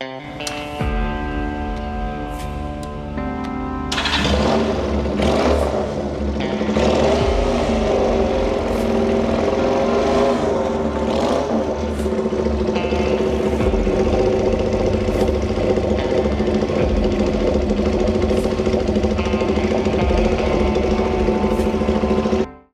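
A chopper motorcycle with a 225cc Yamaha Scorpio engine rumbles steadily nearby, idling at first and then running louder and fuller with a continuous mechanical drone and no talk.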